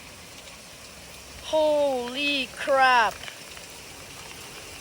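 Heavy rain pours steadily during a storm with crazy winds and flooding, a dense, continuous hiss throughout, while a man briefly exclaims over it in the middle.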